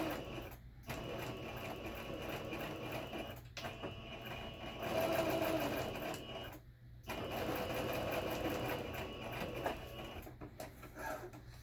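Sewing machine stitching fabric forward and backward, a fairly quiet, steady rapid whirring in bursts separated by short pauses, heard on its own.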